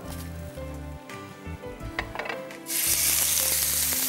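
Beef steak sizzles in a grill pan, with a low steady hum and a few scattered clicks at first, then the frying hiss suddenly swells into a loud, continuous crackle close by.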